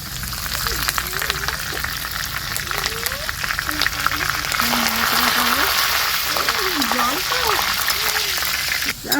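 Potato slices fry crisply in hot oil with a steady, close sizzle that never lets up, while someone talks over the cooking throughout.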